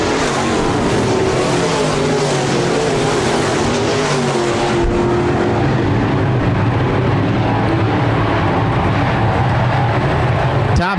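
Modified race cars roar continuously around Park Jefferson Speedway, a loud blended engine drone that shifts in pitch as the pack passes, with a race announcer talking over it.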